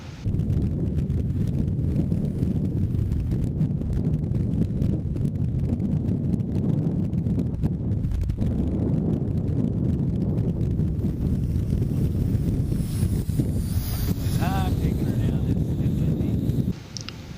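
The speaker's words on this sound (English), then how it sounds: "it was just too windy" Strong wind buffets the microphone outdoors while a drone is flown near power lines, a dense, steady roaring rumble that continues without a break for the whole stretch.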